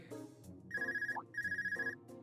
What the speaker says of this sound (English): Phone call. Ring ring.